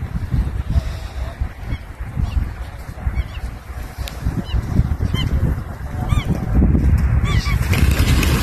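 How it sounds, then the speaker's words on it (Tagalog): Flock of wild ducks in South Korea calling with repeated honking quacks, some near and some farther off, over a rumbling outdoor wind-like background, with people talking in between. "Wild duck."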